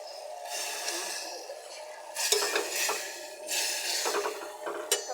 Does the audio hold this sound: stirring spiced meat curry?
yes